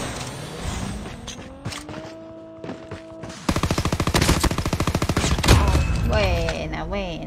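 Video game shooter gunfire: single shots and a low mechanical hum build into a loud, rapid automatic burst lasting several seconds, followed by scattered shots and whooshing effects.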